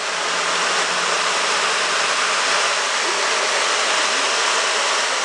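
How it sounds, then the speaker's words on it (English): Constant, loud rushing roar of a waterfall at Ash Cave, broad and unbroken throughout, with nothing else standing out. "There's the waterfall."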